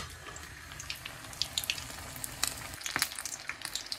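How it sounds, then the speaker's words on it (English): Cheeseburger spring rolls fry in hot oil in a pan, a soft, steady sizzle with scattered faint crackles and pops, heard up close with no talking. "The hot oil, cook 2 minutes per side until golden brown"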